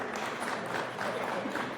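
Crowd applause at the inauguration ceremony of a local news channel in Jamkhandi town, a faint, even patter of many hands heard from a distance.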